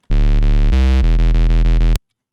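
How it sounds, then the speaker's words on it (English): Synth tone with the drive turned all the way up, a loud buzzing distorted note sustained for about two seconds with one abrupt stepped change partway through, then cut off cleanly. "you get like a more steadily distorted tone"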